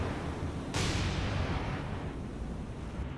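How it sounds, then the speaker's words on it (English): A big explosion on a destroyer during a naval battle in the video game War on the Sea bursts in loud and broadband, then decays into a long rumbling roar over steady low battle noise. "And there we go, big explosion on this destroyer."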